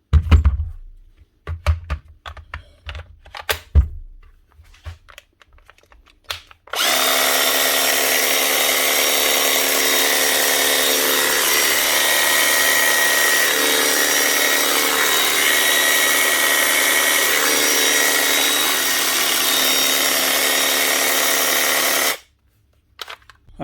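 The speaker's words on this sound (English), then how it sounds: "one seized Makita jigsaw up and running again" A repaired Makita DJV 180 brushed jigsaw that had seized runs loud and steady for about fifteen seconds after a few short clicks and knocks, then stops abruptly.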